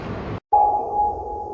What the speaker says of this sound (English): This system works by transmitting a sound pulse called a ping through the transmitter at the specific frequency